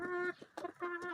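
A chick clucks nearby, three short voiced calls in quick succession, faint and close with no talk over them.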